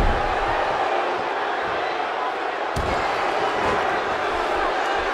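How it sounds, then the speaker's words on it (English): A wrestling arena crowd in the WWE 2K16 video game roars steadily and loudly throughout, with a sharp impact partway through. "by the sound of this crowd, I think they're getting what they wanted"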